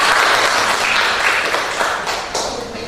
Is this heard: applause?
yes